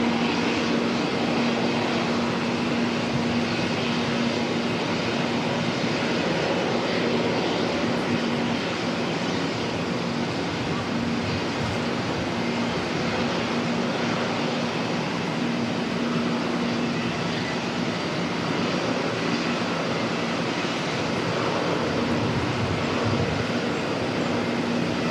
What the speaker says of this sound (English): A321 Neo heading off to Queenstown